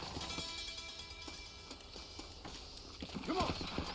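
A horse in Red Dead Redemption clip-clopping at a steady gallop, hoofbeats in a quick rhythm with a brief whinny near the end, under a faint game soundscape.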